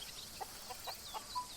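A chicken in the wildlife game Alba: A Wildlife Adventure clucks in a quick series of short, soft, close clucks over faint outdoor ambience.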